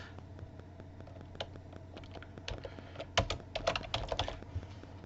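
Someone types initials on a computer keyboard, quick light key clicks, sparse at first and then a denser burst of taps, close and fairly quiet with no one speaking.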